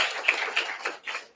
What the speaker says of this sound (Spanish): le pido por favor le demos un aplauso por estar aquí con nosotros